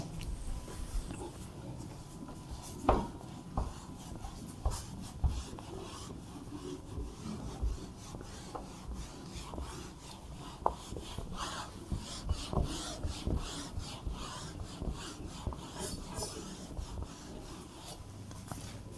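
An eraser rubs out writing on paper, a long run of close, fairly quiet scrubbing strokes in an uneven back-and-forth rhythm, with faint taps and a low murmur of room noise.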